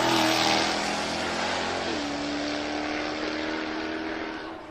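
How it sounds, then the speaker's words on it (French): Supercharged 5-litre V8 of a Jaguar Project 8, a loud, steady engine roar held at high revs, its pitch dipping slightly midway and then sustaining, close and alone with no talk. "qui est donc un V8 de 5 litres avec compresseur"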